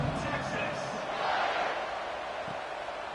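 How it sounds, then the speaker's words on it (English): A stadium crowd in College Football 26 buzzes steadily after a score, a dense, loud roar of many voices that swells slightly midway, with game commentary talking over it. "this crowd is buzzing after that last score"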